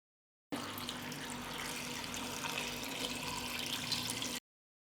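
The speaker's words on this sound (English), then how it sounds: "I pour 2 liters of water." Two liters of water pour steadily from a tap into a pot of plums, a continuous close rushing splash lasting a few seconds with no talk.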